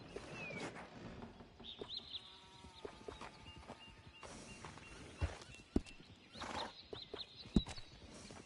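A horse in a video game snorts, whinnies and shifts with a few hoof clops, faint and close against a soft outdoor wilderness backdrop with occasional birds.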